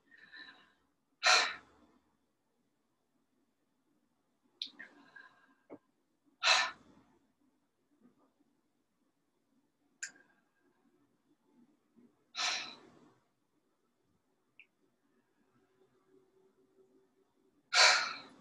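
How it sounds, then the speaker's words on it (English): Deliberate breaths in and out through the mouth during a breathing exercise, four strong whooshing exhalations spaced a few seconds apart, close and loud against near silence with faint softer inhalations between. "So breathing in through our mouth, breathing out through our mouth"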